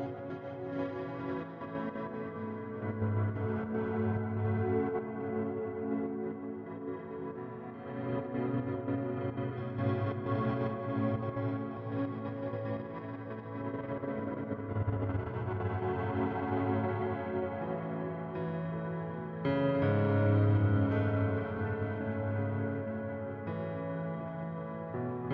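Eventide Undulator tremolo effect set to high depth and mix, a dense processed instrument signal that pulses and swells continuously for about 25 seconds with no talking.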